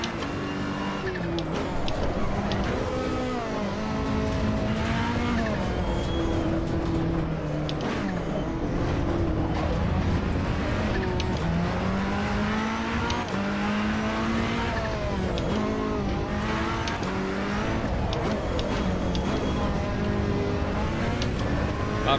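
Race car engine in Assetto Corsa Competizione dropping through gears, with loud continuous engine tone rising and falling in pitch through shifts, steady and close throughout, with faint speech in places.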